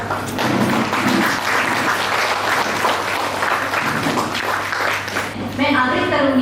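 Audience clapping for two educators at an event, a steady burst of applause running under someone talking over a microphone, with her voice continuing as the clapping carries on.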